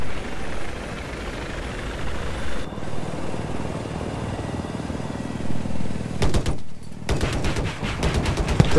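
Rifle fire in the video game Battlefield 4, a low rumbling backdrop broken by a rapid burst of sharp automatic shots near the end, with no talk.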